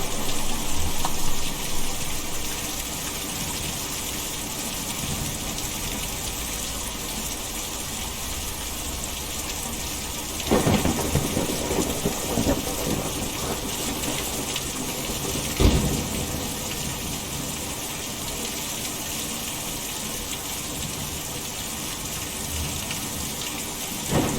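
A thunderstorm with heavy rain gives a dense, constant roar of downpour, broken by a couple of thunder cracks and rumbles partway through.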